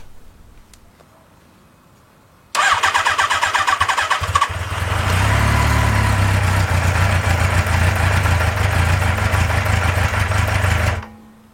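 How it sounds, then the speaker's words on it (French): A motorcycle with a rough, uneven idle starts abruptly after a quiet moment, then chugs loudly and continuously close by before cutting off near the end. "Trouver l'origine du ralenti foireux sur cette moto"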